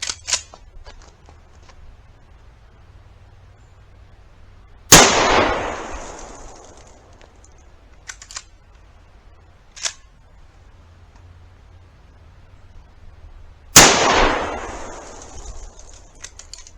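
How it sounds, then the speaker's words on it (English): A Colt Trooper Mark III revolver fires two Remington 125 grain jacketed soft point .357 Magnum rounds outdoors, two loud, sharp isolated blasts about nine seconds apart, each with a brief decaying tail, quiet between shots. "Now 2 rounds with the Remington 125 grain jacketed soft point."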